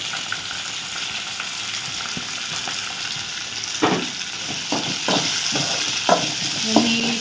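Chili, greens and grated coconut are stirred in a pan over a soft continuous sizzle, with intermittent close scraping and clinking spoon strokes growing busier toward the end.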